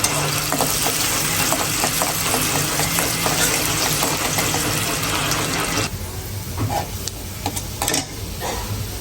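Ginger, garlic and chopped onion fry in hot oil for a tempering, a steady loud sizzle with faint stirring scrapes that drops to a lower, softer hiss partway through.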